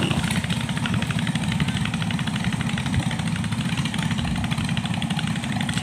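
A motorboat engine runs steadily at a river fiesta, a loud, continuous droning rumble close by with no break for the whole stretch.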